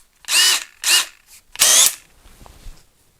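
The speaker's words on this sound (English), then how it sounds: "Let's try a longer drill." A power drill with a long drill bit whirs in three short bursts close by while working on an Adwest steering box, the last slightly longer, separated by brief pauses and followed by quiet handling noises.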